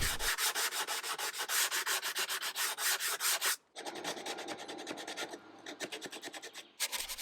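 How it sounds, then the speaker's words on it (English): Power sander working over a wooden storage compartment, a loud, continuous buzzing rasp with a rapid rhythmic pulse that briefly drops away and resumes. "I just sanded it just as it is in place"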